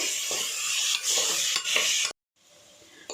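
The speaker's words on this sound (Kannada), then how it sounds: "ಮೂರು ಟೊಮೊಟೊ ಇದ್ದೀನಿ ಇದು ಸ್ವಲ್ಪ ಮೆತ್ತಗಾಗೋವರೆಗೂ ಫ್ರೈ ಮಾಡ್ಕೋಬೇಕು" Three tomatoes fry with a spoonful of ginger garlic paste in a pan, sizzling steadily with several spatula scrapes before the sound cuts abruptly to near silence, then the faint sizzle returns.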